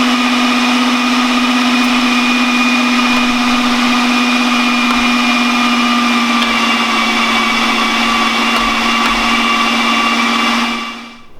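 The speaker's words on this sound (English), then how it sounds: "So that's the Cuisinart electric meat grinder." Cuisinart electric meat grinder running with a steady, loud motor whine and hum, unbroken for about eleven seconds before it winds down at the end.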